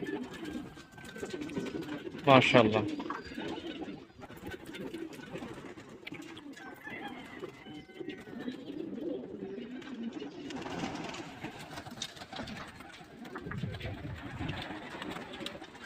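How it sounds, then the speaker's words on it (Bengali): Many pigeons coo together inside a pigeon loft on a pigeon-keeping farm, soft and continuous at close range, while someone speaks once briefly. "ভিতরে অনেক কবুতর"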